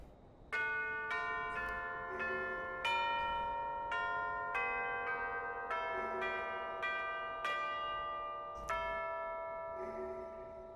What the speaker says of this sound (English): it certainly sounds like a bell now, doesn't it?